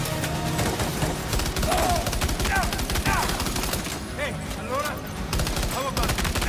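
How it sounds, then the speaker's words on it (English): Sustained, dense assault rifle bursts fill the whole stretch in Death Stranding 2, loud and continuous, with overlapping game effects and occasional whistling tones layered on top. "Yeah, assault rifle."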